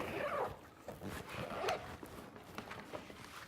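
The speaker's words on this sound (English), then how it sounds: "And then I just zip it right back up" A Plano tackle bag being zipped shut outdoors while ice fishing, with scratchy zipper rasps in a few short pulls amid faint shuffling, close and moderately quiet.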